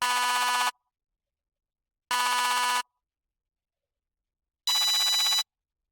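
High-tech user interface tones built in the Serum synthesizer: three separate bright, buzzy electronic bursts, each under a second long, sound with silent gaps between them, and the last one is noticeably higher in pitch.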